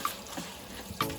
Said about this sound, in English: At first I'll just rinse them with cold water.